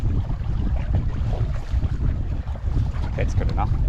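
Gusty wind buffets a proa sailing upwind at sea off Cape Rodney, a rough, continuous rush with water slapping around the hull.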